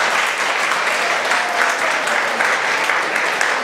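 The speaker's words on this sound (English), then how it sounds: "So let's have a big round of applause." An audience at a theater claps in a steady, dense round of applause that holds at full loudness throughout, with faint voices mixed into the crowd noise.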